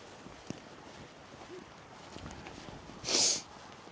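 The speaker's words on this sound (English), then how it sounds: "Oh man, my nose is starting to feel the cold wind now, starting to sniffle." A single short sniffle from a person outdoors in cold winter wind near grazing sheep, heard close up near the end over a steady low wind rumble.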